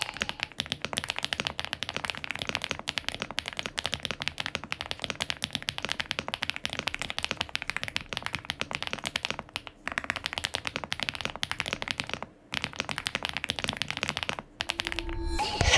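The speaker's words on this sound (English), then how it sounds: "Let's try typing and let's see what it sounds like." Rapid, continuous clacking of Gravastar Mercury K1 mechanical keyboard keys, close up and steady for a long stretch with only brief pauses, no talking.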